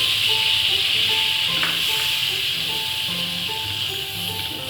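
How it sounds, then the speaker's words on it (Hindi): Flour roasting in melted butter in a pan for white sauce, a continuous close hiss and sizzle that stays even throughout, with a faint tonal hum underneath. "अच्छे तरीके से भून लेना।"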